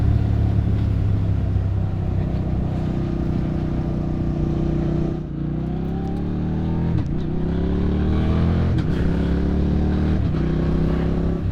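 A 2025 Triumph Speed Twin 1200 RS motorcycle ridden hard and shifting with a quick shifter, its loud engine drone holding steady, then dipping at a gearchange and climbing again through further rising revs and quick shifts.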